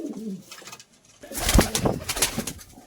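A short Madras pigeon coo opens, then a loud, broadband rustling burst follows, like wings fluttering or birds shifting nearby.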